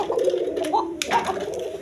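Pigeons coo with low, murmuring calls inside a busy pigeon farm, heard close and steady while someone talks over them.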